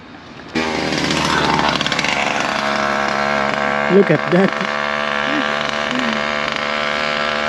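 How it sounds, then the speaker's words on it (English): A loud, buzzing small two-stroke engine on a motorized bicycle drones steadily close by, its pitch wavering slightly, while a voice speaks briefly over it. "there is one bike that is with motor, so it sounds like a motorcycle"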